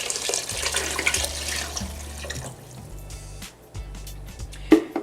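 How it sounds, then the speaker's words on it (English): Water runs steadily from a tap into a soup pot for beef vegetable soup, a continuous rushing splash that fades after a few seconds, followed by a faint clink near the end. "And then we're gonna add in our water."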